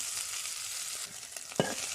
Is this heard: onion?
yes